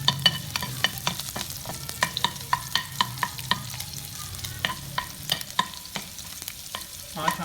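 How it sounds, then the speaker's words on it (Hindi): Chopped garlic and ginger sizzle steadily in a hot pan while a utensil scrapes and stirs in repeated sharp clinks and taps, with no voices. "और चॉप गार्लिक और लहसुन और अदरक डालेंगे और इसे थोड़ा सा सौटे करेंगे।"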